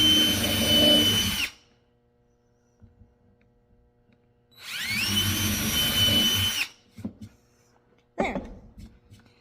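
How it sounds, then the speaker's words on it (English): A power drill bores two small holes for a headset stand: two separate loud whirring bursts about a second and a half each, spaced apart, with quiet handling clicks between and after. "I'm going to drill 2 little holes, kind of equally through there in this little area"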